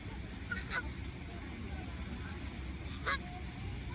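Geese honk a few times in the distance, two or three faint calls over a steady low rumble of background noise.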